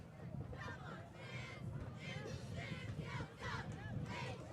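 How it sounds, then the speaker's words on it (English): Cheerleaders chanting and yelling in rhythmic bursts at a high school football game, Piketon at Westfall, over a steady roar of crowd noise, loud and close with the shouts rising and falling across the whole stretch. "As these cheerleaders cheer their hearts out to get the home crowd pumped up."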